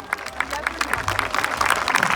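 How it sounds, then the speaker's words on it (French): Crowd applause at a small-town street carnival in Saubusse, a steady wash of clapping mixed with murmuring voices and chatter. "Applaudissez-le, notre carnaval!"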